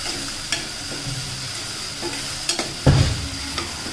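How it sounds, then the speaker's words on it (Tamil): An onion-tomato masala with curd sizzles in a pan for paneer biryani, a steady hiss under occasional soft scrapes and taps of a stirring spoon, one firmer knock near the end, close and without speech. "அதையும் சேர்த்து நல்லா வந்துட்டு வதக்கிக்கலாம்"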